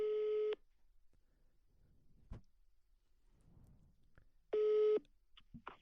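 A phone rings out while a call is placed, sounding two long, steady electronic tones a few seconds apart, with quiet rustling and a faint click between them.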